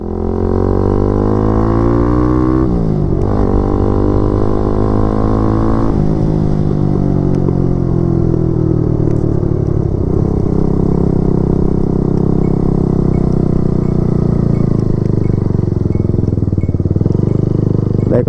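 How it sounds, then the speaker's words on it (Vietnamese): A 2006 carbureted Suzuki Satria built to look like a Raider runs through an AHM1 exhaust, a loud, continuous engine note at close range that shifts pitch with throttle changes, rising and falling between idle and light revs, with no talk over it. "Bây giờ mình sẽ cho anh em nghe thử cái âm thanh của cái bô"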